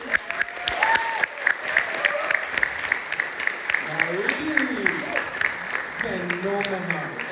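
Sustained audience applause after a business talk at a nomad event in Bansko, dense steady clapping filling the room with a voice talking over it and occasional cheers.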